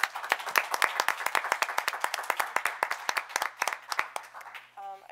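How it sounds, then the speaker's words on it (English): Audience applause at a town board meeting: a steady burst of many hands clapping, fairly close and loud, that thins out toward the end without any talking. "Please give her a round of applause."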